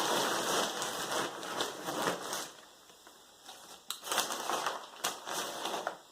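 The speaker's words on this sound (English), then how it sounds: "Put my sleeping bag in the bottom." Sleeping bag stuffed into the bottom of a hiking backpack, a close, dense crinkling and rustling of nylon fabric in bursts, easing off midway and then returning in sharper rustles and scrunches.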